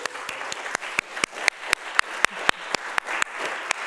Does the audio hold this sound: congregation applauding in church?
yes